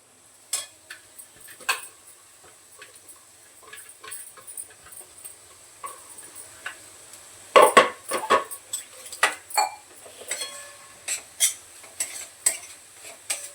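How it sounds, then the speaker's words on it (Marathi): Paneer bhurji stir-fried over high heat in a home kitchen pan, with scattered scraping and tapping of a spatula against the pan, getting busier toward the end, over a faint sizzle; no one talks. "आता फास्ट गॅस करून चांगलं परतून घेते"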